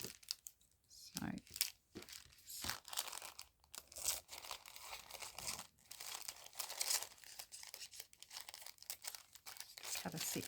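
A cellophane bag is crinkled and handled up close, producing dense, continuous crackling and rustling with brief pauses and a few sharper crunches.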